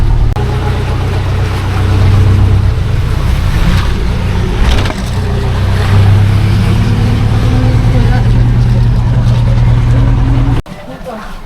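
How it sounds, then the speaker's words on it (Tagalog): A jeepney rolls through a flooded market street in Bulacan during monsoon rains, its loud, steady engine drone and rumble continuing for several seconds, with a brief dip midway and an abrupt drop near the end. "Nasa jeep na tayo ngayon guys"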